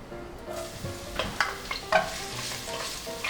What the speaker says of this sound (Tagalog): Kapag mainit na itong mantika, igigisa na natin dito yung bawang, yung sibuyas, at yung luya.